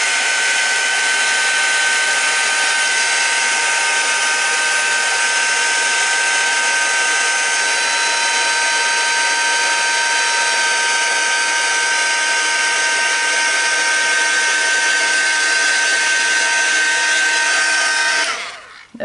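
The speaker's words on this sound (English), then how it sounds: "for the video's sake I'm going to blast it with a heat gun" A heat gun blasts lettering dry with a loud, steady whooshing roar and a thin whine on top, running continuously close by until it cuts off at the very end.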